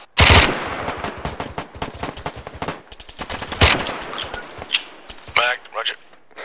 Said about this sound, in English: you'd be firing off 2-3 rounds every 3 seconds